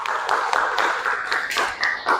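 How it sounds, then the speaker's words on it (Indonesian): A classroom group claps together for a short stretch, the hits fairly close and loosely rhythmic, with no talking over them. "tepuk tangan yang meriah"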